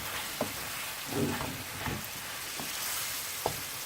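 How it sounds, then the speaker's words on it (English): Madras masala and spices being stirred in a curry pan for a chicken-on-the-bone Madras curry, soft steady frying hiss with a few spoon scrapes and knocks against the pan, close by. "Into that we're going to give it a good stir."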